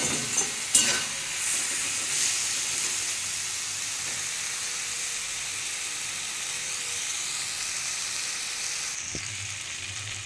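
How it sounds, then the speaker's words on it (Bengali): Cauliflower stalks and leaves being sautéed with cumin and dry spices in a pan: a continuous close hiss of frying with a few sharp clicks of a spatula near the start and again toward the end. "এটা ভালো করে কষাতে হবে নাহলে জিরে দিয়েছি জিরের গন্ধ ছাড়বে"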